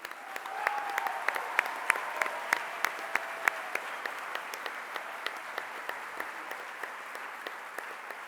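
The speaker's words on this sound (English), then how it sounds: "A big round of applause for our staff team." An audience at an awards event applauds the staff team with moderate clapping, where distinct individual claps stand out in a regular rhythm and the overall level slowly tapers off.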